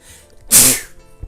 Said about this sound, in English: Well, that definitely came out of nowhere. I've rarely sneezed in videos.